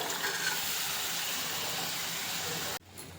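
A steady, broad rush of water poured into a cooking pot with boiled rajma for about three seconds, then stopping abruptly.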